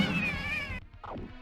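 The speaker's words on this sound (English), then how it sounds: "That was a cat." A cat gives a drawn-out, loud meow with a wavering pitch, ending abruptly, followed by a shorter, lower mew close by.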